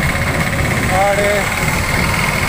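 A motorcycle engine runs at a steady drone during a highway ride, a constant low rumble and vibration beneath someone talking.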